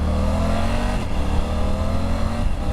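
A Triumph Tiger GT Pro motorcycle accelerates hard, its engine note droning and climbing steadily, loud and close from the rider's position, with one brief shift-like dip midway and no speech.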